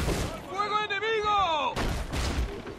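Enemy cannon fire booms during a naval battle in Assassin's Creed IV, heavy low blasts under someone shouting, with loud rumbling explosions near the end.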